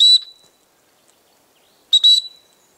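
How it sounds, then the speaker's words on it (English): Two short, shrill dog training whistle blasts for the recall command, close and sharp, separated by nearly two seconds of silence. "That's the whistle command for come."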